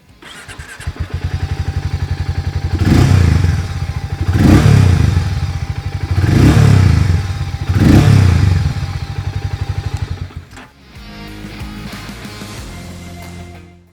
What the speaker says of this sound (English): The Mavrick also has a very nice, deep, bassy and raspy exhaust note to it,